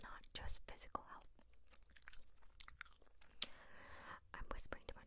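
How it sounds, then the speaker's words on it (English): Bubblegum chewed close to the microphone, with soft wet smacks and clicks repeating through the clip, mixed with quiet whispered talk. "I'm gonna chew for a little bit."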